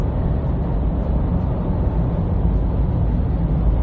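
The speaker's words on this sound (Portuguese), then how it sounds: "vocês estão conseguindo escutar bastante barulho de vento" Wind noise inside the cabin of a Ford Ranger XL or XLS pickup at high speed, a steady, broadband rushing roar with a low rumble underneath, constant and fairly loud with no voices.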